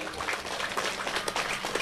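Audience applause honoring a lieutenant general at an Islamic prayer gathering with sugarcane farmers, a steady wash of many hands clapping at moderate distance, fairly soft and even for about two seconds.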